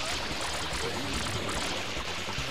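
Water spraying from the hose tool in the GameCube game Super Mario Sunshine, a continuous rushing, pouring hiss mixed with game sounds at moderate level.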